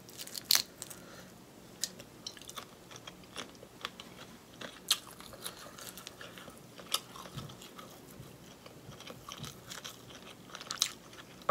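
Crunchy Costco shrimp being bitten and chewed up close during a mukbang, sharp irregular crunches and crackles spaced through a quiet background.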